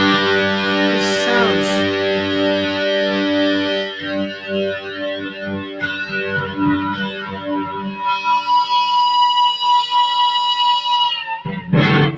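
Electric guitar played clean straight through an amp, chords ringing out with long sustain and a bright, full tone, strummed again near the end.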